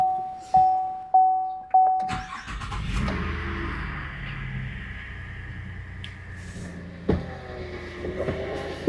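A friend's car: a few short chimes and clicks, a thunk, then the engine cranks and catches, settling into a steady, fairly close idle with another thump near the end.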